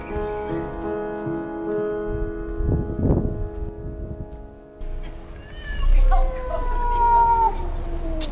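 A cat meows in the Jordaan courtyards of Amsterdam, several drawn-out calls rising clearly near the end over a steady background tone and faint ambient sound.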